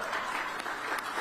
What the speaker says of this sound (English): the cheering crowd, welcome them